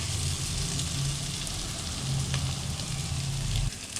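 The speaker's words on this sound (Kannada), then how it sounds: "ಒಂದು 2 ಮಿನಿಟ್ಸ್ ಫ್ರೈ ಮಾಡ್ಕೊಳ್ಳೋಣ ಬಟರಲ್ಲಿ." Chilli powder fries in butter in a pan, giving a steady, close, even sizzle that runs unbroken for the whole stretch, with no voices.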